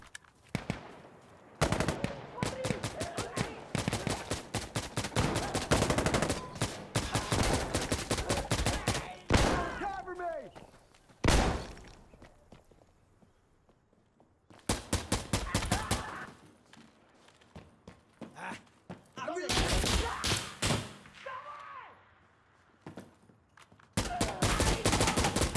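Dense gunfire from the video game Insurgency: Sandstorm with the ISMC mod, rapid automatic bursts and single shots crackling in loud clusters with short lulls, some shots more distant, alongside someone talking.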